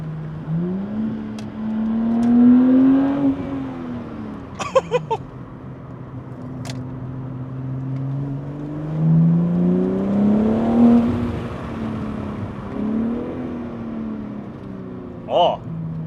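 A BMW G8X M3/M4 fitted with a DCE equal-length X-pipe hybrid exhaust revs close by, its engine note rising and falling in long sweeping pulls, punctuated by a few sharp pops and crackles.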